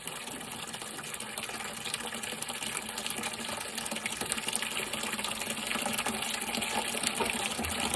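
Water drains steadily from a home steam heating boiler into a 5-gallon bucket, a continuous broadband rushing gush that holds steady and grows slightly louder toward the end, with no talking.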